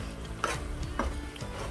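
Onions sautéing in a pan for beef qeema: a close sizzle with a couple of spoon scrapes and stirring knocks over a steady frying hiss.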